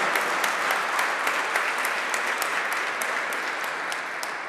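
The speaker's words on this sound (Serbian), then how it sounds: "veliki aplauz za njih." Audience applause at an award ceremony for exhibitors of a miniature art exhibition, steady dense clapping from a sizable crowd filling the whole stretch, close and even in loudness with no voices over it.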